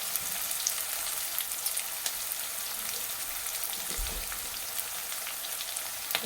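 Onions fry in a pan for a carrot curry, giving a steady, close sizzling hiss throughout with faint crackles and one brief low thump. No voices are heard.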